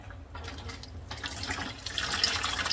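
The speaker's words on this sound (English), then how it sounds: "I'm gonna pick these up, kind of drain some of the water out, put them aside." Water runs and drips from hand-dyed yarn skeins lifted out of a dye bath and squeezed, a splashing trickle that builds louder toward the end.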